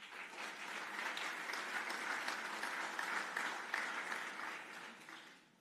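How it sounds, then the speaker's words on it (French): Applause from the audience at a mediation federation congress, a steady wash of many hands clapping at moderate distance, sustained for several seconds before tapering off, with no talking. "qu'on puisse t'applaudir également"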